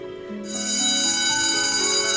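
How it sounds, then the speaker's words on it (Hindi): An electric school bell starts ringing partway through and holds as a loud, continuous metallic ring to the end, with no talk over it. "अरे जा नरेंद्र, ये ले अपना बस्ता और स्कूल जा, घंटी बज गई है।"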